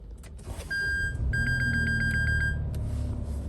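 A Nissan Navara's ignition being cycled: a low engine or electrical hum rises, then a quick run of repeated electronic warning beeps with a sustained chime tone sounds close by inside the cab, with no talking.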